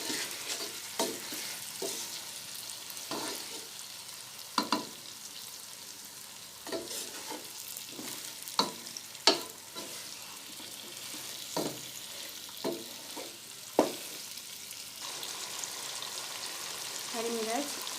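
Chicken pulao cooking in a pan gives a steady sizzle with repeated scraping strokes of a spoon stirring through it at an irregular pace, close and alone.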